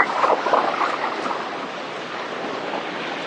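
Sea waves wash onto the shore at Bournemouth, a broad, steady roar of surf with a louder swell at the start, heard alone.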